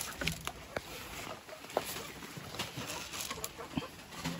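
Golden Boy cross pullets, young hens, clucking in scattered short calls on a farm, close and moderately loud over a busy background of rustling and pecking, with no talk.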